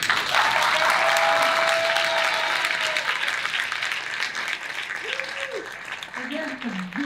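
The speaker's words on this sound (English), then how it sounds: "They deserve a big applause." An audience bursts into loud, sustained applause for a group of singers, a dense wash of clapping mixed with crowd noise that gradually thins over several seconds.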